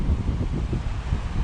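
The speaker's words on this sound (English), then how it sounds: "It's very windy and we don't care." Strong wind buffets the microphone beside a lake on an exposed Colorado hiking trail, a loud, low rumbling roar with gusty swells that lasts the whole short stretch.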